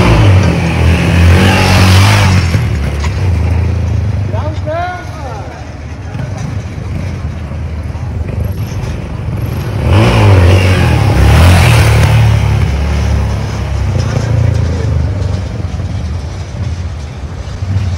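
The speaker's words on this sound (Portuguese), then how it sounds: "Essa moto é muito louca, eu vou ter que comprar uma mesmo, Soneca, esquece." A Yamaha XT660 motorcycle engine revs hard and loud in two surging bursts with a steady rumble between them, while people talk excitedly over it.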